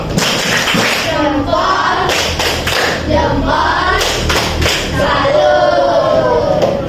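A grade 5 class claps together in rhythm while chanting in unison, loud and close, with repeated bursts of claps.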